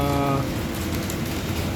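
Steady rain pours down during a lunch break on a motorcycle touring trip along the Pantura coast of Central Java, a dense continuous hiss close by with a faint low hum underneath and no talking.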